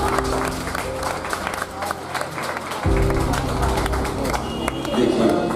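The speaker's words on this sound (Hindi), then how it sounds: "लोग तालियां बजाने लगे" Audience applause at a Hindi book launch ceremony: steady, dense clapping from a seated crowd that continues throughout, with a low hum underneath and a fuller, louder swell in the second half.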